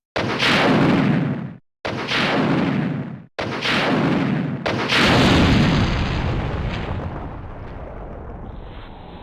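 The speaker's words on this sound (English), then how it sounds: "We're going to go ahead and equip the grenade launcher, run into the corner over here, and once he gets on camera" Grenade launcher firing in the video game Resident Evil 2: three loud booming blasts in quick succession, then a fourth larger explosion that rolls into a long fading rumble, with no voices.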